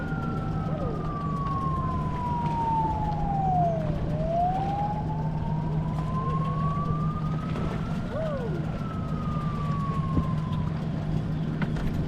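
An ambulance siren wails past, heard from a 60-year-old Omega cabin boat on the water. It makes long, slow rising and falling sweeps, moderately loud over a steady low rumble.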